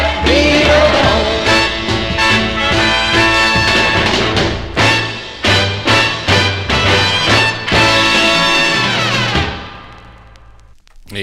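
A 1965 soul recording plays loud and full with a steady beat, then fades out over the last couple of seconds.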